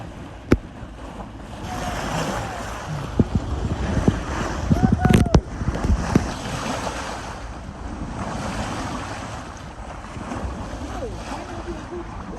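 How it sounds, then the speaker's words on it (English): High ocean waves, two to three meters, wash steadily around a sailboat on an Atlantic crossing in windless conditions, with a continuous broad surge, wind buffeting the microphone, and a few sharp knocks and creaks near the middle. "So no wind and high waves."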